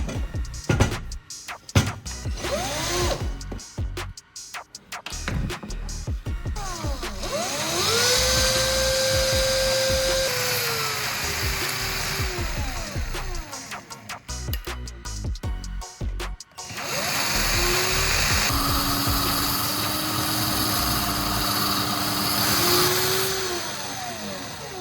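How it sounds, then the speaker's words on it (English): The end of a metal rod is ground to a sharp point: a close, loud grinder whine that rises and falls in pitch as the rod is pressed in, in several long passes broken by short clattering pauses. "Next, I'll grind one end of this metal rod to make it sharp."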